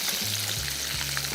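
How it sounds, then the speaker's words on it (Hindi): Chicken tandoori pops frying in a pressure cooker make a dense, constant loud sizzle and crackle with a low steady hum underneath, and no one speaks over it. "उसको प्रेशर कुकर में पकाया जाता है।"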